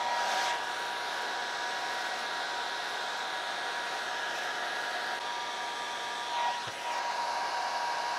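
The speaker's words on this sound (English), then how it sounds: "I'm actually gonna preheat everything with a hairdryer" A hair dryer blows steadily with a constant broadband whoosh and a faint tonal whine, briefly shifting pitch near the end.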